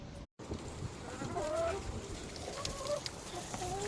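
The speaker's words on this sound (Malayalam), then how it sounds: "ഞാൻ വേണമെങ്കിൽ ഇപ്പോൾ കാണിച്ചു തരാം കോഴികളിത് കഴിക്കുന്നത്." Backyard chickens cluck and call near the microphone while pecking at the leaves and flowers of garden plants, a steady run of short fowl vocalisations over a soft outdoor background.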